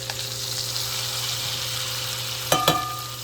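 Blackened fish sizzles steadily in a hot pan, a constant loud crackling hiss with two sharp clatters near the end as the fillet is shifted, and no talking.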